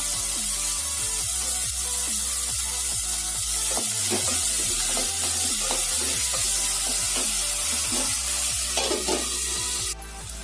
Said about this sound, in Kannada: ಈರುಳ್ಳಿನ ಒಂದು ನಿಮಿಷದಷ್ಟು ಫ್ರೈ ಮಾಡಬೇಕು